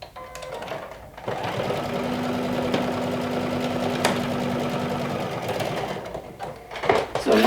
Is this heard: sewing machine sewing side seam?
yes